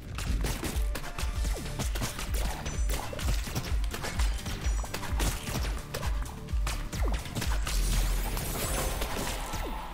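Conga weapon firing in the Neon Abyss video game, a busy stream of percussive hits, whooshes and crashes layered over game music, loud and continuous for the whole stretch.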